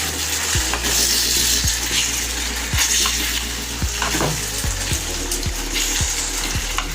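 Soy sauce is stirred into a chili prawn gravy in a pan, giving a continuous sizzle and bubbling with regular scraping taps of the spoon against the pan, close up and with no talking.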